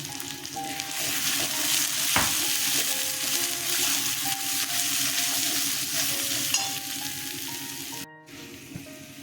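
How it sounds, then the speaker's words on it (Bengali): Ground spices (turmeric, chili, cumin and coriander powder) with salt and sugar fry in a pan for an egg-fritter and potato curry, giving a steady close sizzle with scraping spatula strokes, then a short pause and quieter clinks at the end. "মশলা কষানো হয়ে গেছে"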